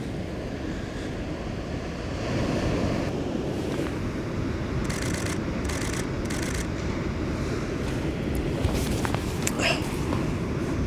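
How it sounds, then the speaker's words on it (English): Ocean waves wash in against the rocks at the base of a lighthouse on the Fanad Peninsula in Donegal, Ireland, a steady surf roar mixed with gusty wind buffeting the microphone. "The waves are starting to pan in more on the rocks at the base of the lighthouse."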